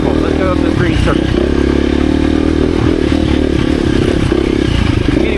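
A KTM 350 EXC-F dirt bike engine drones steadily and loudly as it rides uphill on a trail, with rattling clatter and scraping from the terrain throughout and a voice talking over it.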